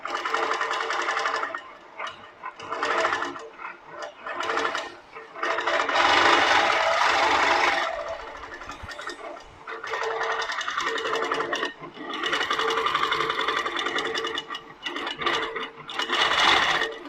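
Pro-Stitcher Lite longarm quilting machine running continuously, a loud steady mechanical whir that pauses and restarts several times, with quieter stretches between stitching runs and faint talk in places.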